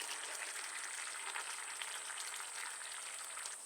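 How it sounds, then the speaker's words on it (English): Chicken sausages and vegetables in a creamy sauce give a soft, even bubbling sizzle from the pan, constant and fairly quiet throughout with no talking. "We just need to let it simmer and cook for about another 5 minutes"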